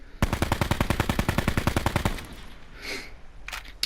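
An automatic rifle fires a sustained burst of about twenty rapid, evenly spaced shots in the Black Ops Blackout video game, loud and close, then stops and leaves a few faint game sounds.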